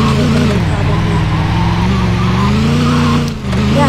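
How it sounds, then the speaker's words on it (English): Simulated car engine from a Roblox driving game, a steady loud droning rev with layered harmonics running throughout, with a brief dip near the end. "this is one of the fastest cars in this game"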